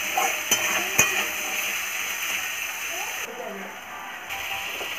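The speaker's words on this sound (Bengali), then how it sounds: "এবার আমি দিয়ে দেবো কাঁচা ছোলাটা, কিশমিশটা আর নারকেল রেখেছিলাম গ্রেট করে। ভালোভাবে মিক্স করে নেব।" Raw chickpeas, raisins and grated coconut stirred in a hot pan, a steady sizzle with scraping and a couple of clinks early on, while a voice speaks over it.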